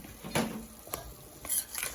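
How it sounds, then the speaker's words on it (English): Seasoned chicken tossed with garlic powder, salt and black pepper being stirred in a bowl or pan, a few short scraping, clinking strokes spaced apart, close and moderately quiet with no talking. "Give that a mix."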